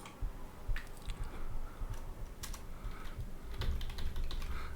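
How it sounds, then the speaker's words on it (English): Rapid clicking of keys on a computer keyboard as a password is typed, steady and close, with a few louder taps among the quieter keystrokes and no voices. "I'm typing the master password."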